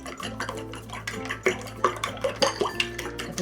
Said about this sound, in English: And we'll give this a good whisk.